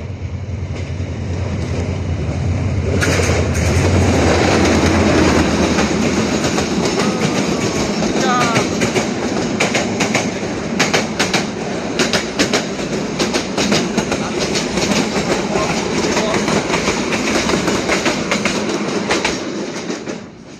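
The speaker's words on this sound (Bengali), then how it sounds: "দেখেন সুন্দরভাবে ট্রেন সুন্দরভাবে তার গন্তব্যস্থানে চলে যাচ্ছে।" A train passes nearby for a long stretch, a loud continuous rumble with rhythmic clickety-clack from the wheels on the rails and occasional faint squeals, with no voices.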